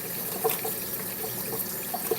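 Liquid pours steadily into a pot of concentrated stock to dilute it, giving a continuous wash of splashing and trickling with small glugs and no voices.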